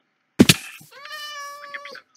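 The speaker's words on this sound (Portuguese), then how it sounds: "tem aqui um gato preto" A black cat meows once in a clear, drawn-out call close by, preceded by a brief thump or rustle, with no talking over it.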